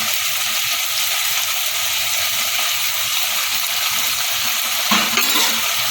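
Chilli paneer being stirred in a frying pan, a steady close sizzle of oil throughout, with a slightly louder scrape of the spoon near the end. No voices.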